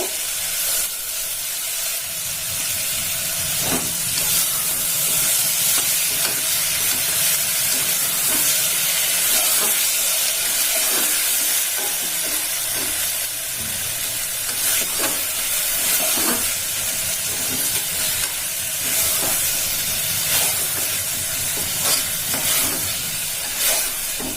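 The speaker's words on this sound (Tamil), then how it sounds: "ஒரு 2 நிமிஷம் நல்லா வதங்கட்டும்." Ginger garlic paste sautéing in a pan for white kurma gives a steady close sizzle and hiss, with occasional clinks of stirring through the whole stretch.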